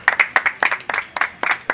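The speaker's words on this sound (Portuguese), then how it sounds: "Palmas para a Bandeira." Audience at a poetry evening in a bistro applauds in honour of the poet Manuel Bandeira, with about a dozen distinct bursts of clapping that come in uneven, close, lively waves and no voices over them.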